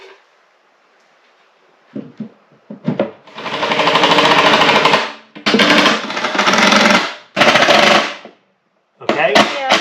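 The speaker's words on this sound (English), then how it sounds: "now I got to drill this thing" A power drill whirs in three sustained bursts of a few seconds each, loud and close, drilling a portable toilet box under construction, with short clicks and handling noises between runs.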